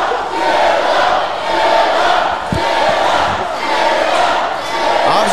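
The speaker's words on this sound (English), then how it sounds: "Obviously, the crowd loves the Reality Wrestling Champion, Zilla Fod 2, the main one." A wrestling arena crowd roars and cheers steadily throughout, a dense, loud wash of many voices swelling and dipping, with a brief sharp thump partway through.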